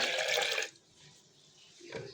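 Water from a cup of water is poured into crepe batter, a loud splashing gush lasting about half a second that cuts off abruptly, followed by quiet room tone and a faint later rustle.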